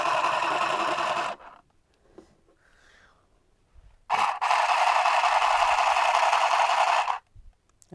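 A $20 Aldi handheld sewing machine runs in two loud, steady buzzing bursts, about a second and three seconds long, separated by a brief quiet pause with faint handling noise.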